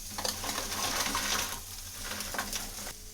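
Pork spare ribs sizzle and crackle steadily in a hot wok, a close, continuous frying hiss with light stirring scrapes.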